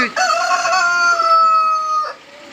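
A rooster crows loudly and close by, one long drawn-out call that holds steady before breaking off near the end.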